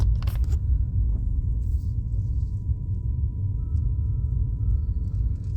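Wind shakes the trees along a city street on a weekday morning. It comes through as a low, buffeting rumble that persists at steady strength, with a brief rustle at the start and faint distant traffic beneath.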